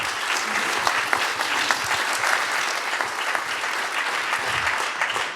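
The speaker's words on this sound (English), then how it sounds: "just give yourselves a round of applause for everything that you're doing" Audience applause for a housing finance task force at a conference's closing remarks, sustained dense clapping from a sizable crowd at steady volume throughout, with no talking over it.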